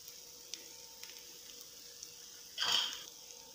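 Finely chopped green chillies go into a hot pan, giving a short burst of sizzling above a low kitchen hum that fades after about half a second.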